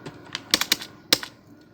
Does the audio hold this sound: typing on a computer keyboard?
yes